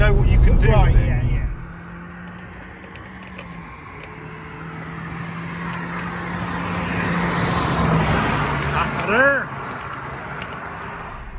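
A Ford Focus ST170 hatchback driving on a road, a steady engine drone and road noise from inside the car, with a voice talking over it.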